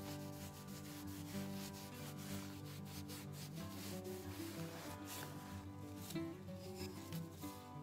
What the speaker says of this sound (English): you want to burnish it with a soft cloth